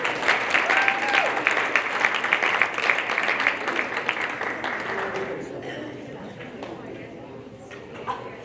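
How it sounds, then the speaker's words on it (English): An audience at a high school volleyball awards banquet claps steadily in a room, a dense round of applause that gradually thins and tapers off after about five seconds. "One more round of applause for them, please."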